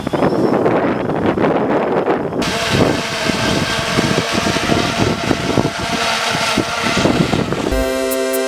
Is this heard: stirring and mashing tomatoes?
no